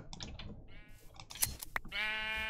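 An orange sheep in a video game bleats a couple of times amid game sound effects, with short electronic blips and a longer wavering bleat near the end.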